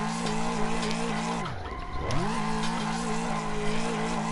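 A Toyota Supra drifts in a video game, its engine tone dropping as the tires squeal through the slide, then climbing again as the car revs back up, loud and close.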